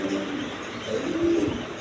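Pigeons coo softly nearby in a couple of low, rolling calls over a faint background hum, with no talking.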